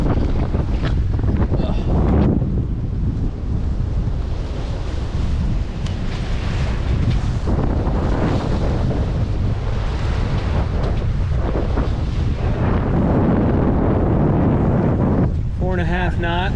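Strong wind roars across the microphone aboard a single-handed sailboat on the Chesapeake Bay, reefed down with a sliver of jib, with loud constant buffeting and rushing water beneath.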